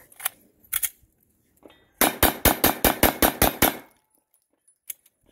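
Rapid volley of about ten sharp Sinter Fire frangible rounds fired at a metal target, ricocheting with bright metallic cracks, preceded by a few scattered shots and trailing into quiet with one last report.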